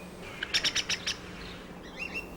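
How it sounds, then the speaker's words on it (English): A mistle thrush chick calls with a quick series of five or six shrill, raspy chirps, followed by fainter, thinner twittering. "A missel thrush chick calls to his parents."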